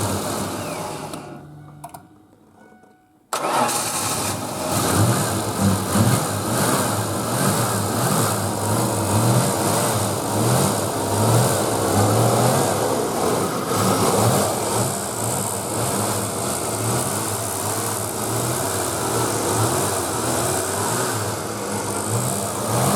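A 1992 Ford Mustang convertible engine, left sitting for about 13 years, cranks briefly and catches, then settles into a loud, steady idle that runs on uninterrupted for some twenty seconds.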